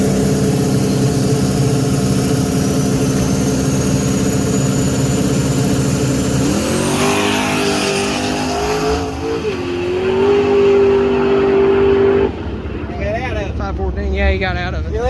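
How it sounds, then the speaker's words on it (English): A small red drag-racing truck with a big turbo idles with a steady rumble, then revs up and holds a high whine before dropping back. Crowd noise and people talking run underneath at a Friday night drag strip. "he's going to try to run a 5 flat in this little red truck with the big old turbo in it"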